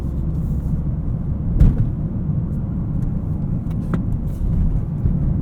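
A 2023 Toyota GR Corolla pulling hard on a street drive, its engine a loud, steady low rumble heard from inside the cabin with a brief thump partway through and no talking.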